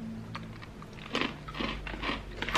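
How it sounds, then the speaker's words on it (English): Crunchy protein chip snack bitten and chewed close up, a few sharp crisp crunches in quick succession over a quiet room background. "Can you hear how crunchy it is?"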